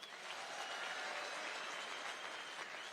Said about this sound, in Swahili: Minister wa Foreign Affairs Alfred Mutua, pigieni yeye makofi.